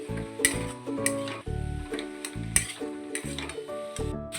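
Bottle gourd shukto frying in a pan while being stirred, with repeated rhythmic scrapes and clinks of the spoon against the pan over a soft sizzle. The sound is fairly quiet and close, and nobody talks.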